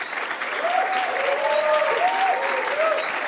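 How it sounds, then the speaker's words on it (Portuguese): Sustained applause from an audience at a startup demo day, dense and even, with a voice speaking over the clapping throughout. "palmas para todo mundo que passou por esse processo"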